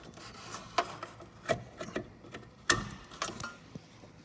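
An LED fog light bulb being twisted into its locked position in a Ford F-250 Super Duty housing gives a series of small plastic rubs and scrapes, ending in one sharp click, quiet and close with no talk.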